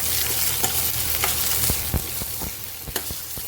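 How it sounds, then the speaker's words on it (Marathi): Chopped coriander and grated coconut roasting in a pan, a close, continuous dry sizzle broken by a few light scraping stirs, with no one speaking. "कोथिंबीर आधी परतून घ्या आणि त्याच्यानंतर खोबऱ्याला पण जरासं परतून घ्या खालीवर"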